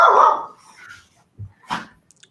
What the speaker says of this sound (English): that dog barking is not an illusion